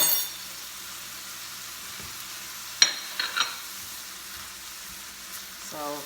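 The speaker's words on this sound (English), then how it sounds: "So I'm just gonna let this saute until the onions and the pepper and all of that is translucent" Onions and peppers sauté in olive oil and olive juice for Puerto Rican arroz con gandules, a soft, even sizzle with a few clinks and scrapes of a spoon, and no talking.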